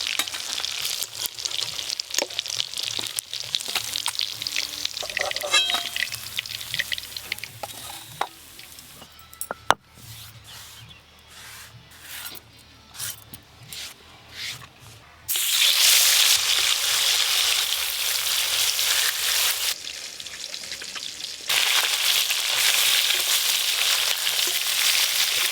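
Black carp fish sizzle in hot mustard oil with a loud, steady crackle. The sound thins into quieter stirring and scraping midway, then returns as strong frying. No one speaks.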